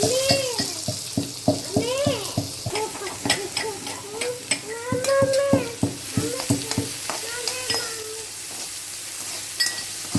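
Onions frying in ghee for white cream pasta, a loud continuous sizzle broken by repeated metallic stirring scrapes and clinks against the pan, with quiet voices now and then.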